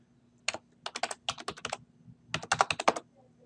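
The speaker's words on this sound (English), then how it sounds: "So you can manually type it in" Clear, close keystrokes on a computer keyboard, typed in two quick bursts with a short pause between them, alone in a quiet room.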